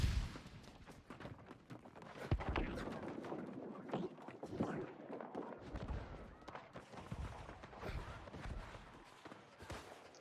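Cannon fire in a video game booms repeatedly with dull, irregular impacts and crackling blasts, layered over a busy rumbling battle background.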